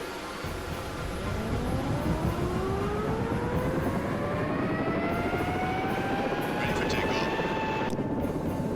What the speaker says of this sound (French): démarrage des turbines, contrôle du vent.